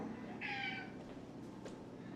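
A house cat gives a single short meow, moderately close, over a steady background hum.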